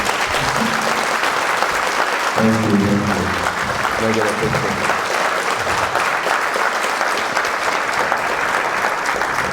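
An audience claps for a photographer after a live Q&A interview about Prince, sustained dense applause filling the room while someone speaks briefly over it partway through.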